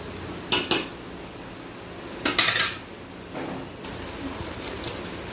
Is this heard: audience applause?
no